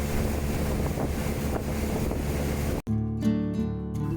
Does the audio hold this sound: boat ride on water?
yes